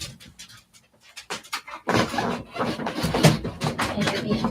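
A dog pants and whimpers indoors, close and restless, with quick breathy bursts and small rubbing sounds that grow louder and denser after the first two seconds.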